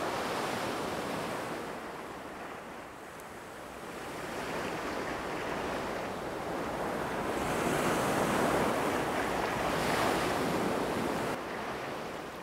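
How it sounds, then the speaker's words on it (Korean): Fast seawater surging against the rocks on both sides of a seal haul-out rock off Baengnyeong Island, a continuous broad wash of surf that swells and eases, with wind buffeting the microphone. "빠르게 흐르던 바닷물이 물범 바위 양편의 바위에 부딪혀 주춤하면서"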